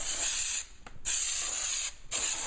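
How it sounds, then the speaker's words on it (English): A spray can of glue hisses onto a motorcycle saddlebag liner in two long, steady bursts separated by a short pause, close and fairly loud. "And so you're going to want to spray this liberally."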